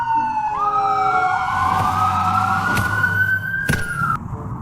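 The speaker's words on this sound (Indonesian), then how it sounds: "ada juga mainan ambulans" Toy ambulance siren, a close and loud electronic wail that sweeps upward and holds, with faint clicks and knocks in the background.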